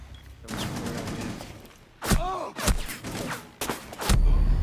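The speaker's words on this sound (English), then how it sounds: "Shooting through the doorway." Gunfire in Rainbow Six Siege as shots go through a doorway at a Blitz shield operator: a steady rattle of shots, then several loud, close, sharp blasts in bursts toward the end.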